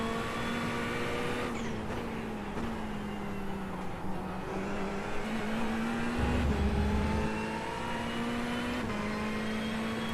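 A Ferrari GT3 race car in an iRacing sim at Sebring, heard onboard: the engine drones loudly and steadily, pitch rising and dipping through gear changes and corners, with a brief low rumble partway through and no speech.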